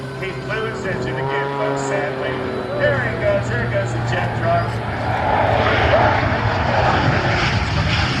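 At a car and air show, an aircraft engine rumbles and gradually builds in loudness as it fires up for takeoff, continuing steadily beneath nearby people talking.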